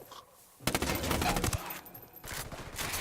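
Submachine gun fire in Ghost Recon Wildlands, a sustained rapid automatic burst after a brief quiet start, then a second burst near the end, moderately loud with no voices over it.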